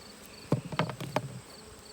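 Honeybees at a ten-frame hive box give off a few short, close buzzing bursts over a faint, quiet background hum.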